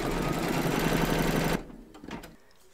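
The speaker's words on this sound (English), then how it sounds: "Pop your hoop into your machine and stitch round number 5" Embroidery machine stitching fabric held in a hoop for a crazy patch quilt block, a steady rapid mechanical whir close by that stops abruptly partway, followed by a few faint clicks.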